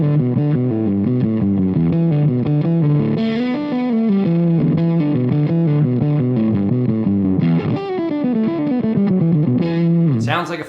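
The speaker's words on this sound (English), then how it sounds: "Sounds like a fuzz pedal." Electric guitar played through a Game Boy-style fuzz pedal, the bypass switch engaged, giving a thick, buzzy high-gain distortion over a steady melodic line of sustained notes, loud and continuous, cutting off abruptly at the end.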